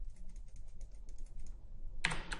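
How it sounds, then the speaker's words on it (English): Rapid light clicks of a computer mouse or keyboard while painting highlights in 3D software, a quick patter of small taps close by and alone, ending in a couple of sharper, louder clicks. "I'm just clicking to bake out some highlights."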